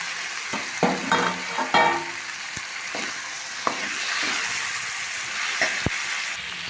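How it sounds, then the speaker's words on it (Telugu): Tomato, capsicum and green chillies fry in oil with a constant close sizzle, as a utensil stirs and scrapes the pan in several knocks and clatters. "టమాటా కూడా మంచిగా మగ్గింది కాబట్టి ఇప్పుడు క్యాప్సికమ్, పచ్చిమిర్చి వేసుకున్నాం."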